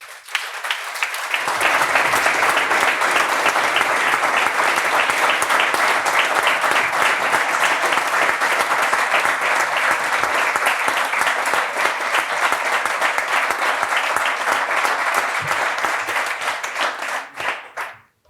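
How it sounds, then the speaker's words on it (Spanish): Long, loud applause from a seated audience at the close of a talk, many hands clapping densely and evenly for about fifteen seconds before tapering off abruptly. "que sepas que ha sido el aplauso más largo de lo que llevamos charlando en GAM"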